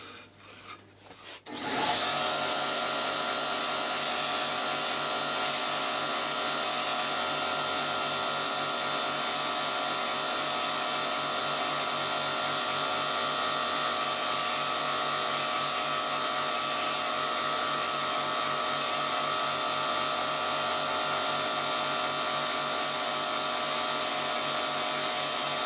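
A belt grinder levelling metal surfaces starts up after a brief quiet moment, then gives a steady, loud abrasive hiss and motor hum that runs unbroken for over twenty seconds.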